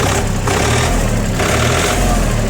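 A cold Japanese tractor with a loader and tiller, started without glow plugs, idles at about 700 rpm with a steady, loud, rough mechanical drone and no talk.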